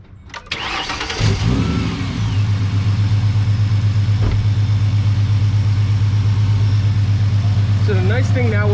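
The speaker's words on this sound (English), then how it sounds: "Let's turn the car on." A 2008 Ford Mustang with a 4.0 V6 cranks briefly, catches and then settles into a steady, loud, close idle drone that holds for several seconds.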